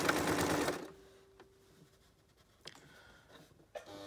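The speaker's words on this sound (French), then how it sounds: "et je couds sur toute la longueur" A sewing machine stitches a seam on an apron, whirring loudly in a short rapid run that stops abruptly, followed by faint clicks and handling noises in a quiet room.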